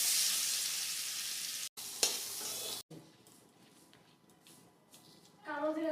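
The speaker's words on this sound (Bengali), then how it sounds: "আলু হলুদ মেখে লবণ মেখে ভেজে নিচ্ছি" Potato pieces coated in turmeric and salt frying in hot oil: a loud, dense sizzle at first, broken by a couple of abrupt cuts, then a quieter crackle, with a voice entering briefly at the end.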